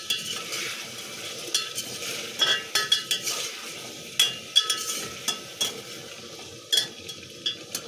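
Kashmiri chilli korma (marchwangun korma) fries in a pan, with a soft steady sizzle and a spoon stirring and scraping, sharp metallic clinks knocking against the pan at irregular intervals.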